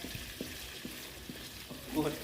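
Sago palm weevil larvae deep-fry in oil until crispy, a soft continuous frying hiss broken by a few light knocks of stirring and a brief louder bubbling burst near the end.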